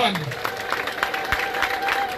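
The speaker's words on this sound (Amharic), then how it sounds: "ለእግዚአብሔር ክብር እልልታና ጭብጨባ ያቀርባል" A church congregation at a gospel singer's funeral service claps in brisk, uneven bursts while a high trilling ululation rises over them, with voices mixed in the crowd noise.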